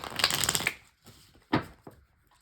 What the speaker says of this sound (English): I'm gonna do a quick shuffle.